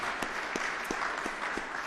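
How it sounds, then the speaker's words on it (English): Audience applause at a Philadelphia City Council stated meeting, a steady wash of clapping from a room of people with a few sharper, closer claps standing out. "Let's give her a big round of applause."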